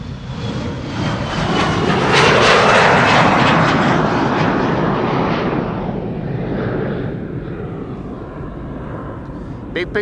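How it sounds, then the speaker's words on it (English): Embraer 175 jet departing Amsterdam Schiphol Airport, a loud broadband engine roar that swells to a peak early on and then slowly fades as it climbs away, with some talk underneath. "Right, Embraer 175 to Hamburg."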